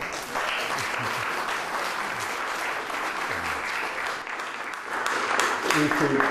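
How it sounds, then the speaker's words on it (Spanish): An audience applauds at a science talk held in a bar, a dense, sustained clatter of many hands clapping close by throughout. "un aplauso para ustedes"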